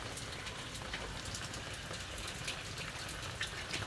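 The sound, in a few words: rain falling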